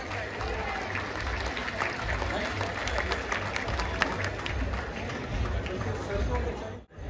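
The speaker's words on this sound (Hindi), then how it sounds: "जोरदार तालियों से इस्तकबाल कीजिए" Loud, sustained applause from a large literary-festival audience greets an author walking on stage, with crowd noise beneath the clapping and the clapping cutting off sharply near the end.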